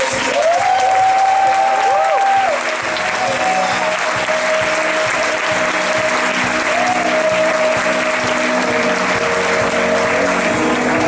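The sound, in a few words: church congregation applauding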